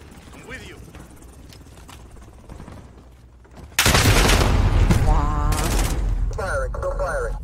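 Video game gunfire in Modern Warfare: quiet game sounds at first, then sudden loud sustained automatic fire with rapid bursts and booms, under a voice that talks over the action.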